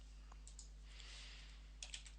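Typing on a computer keyboard at a desk, soft scattered keystrokes with a small cluster of sharper clicks near the end, close and quiet over a low steady hum, no voices.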